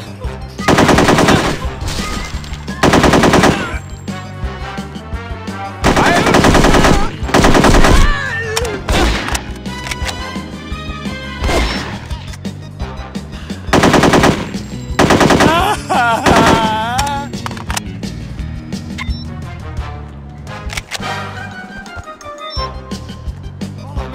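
Loud, close machine-gun fire in the shooter game No One Lives Forever 2, rattling in repeated bursts with short gaps, mixed with game music and voices.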